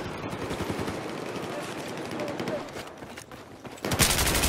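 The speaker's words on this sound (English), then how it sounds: "Firing rockets." Rapid bursts of rocket fire in the Battlefield 4 game, a dense rattling barrage that fades before a sharp loud burst near the end, with chatter mixed underneath.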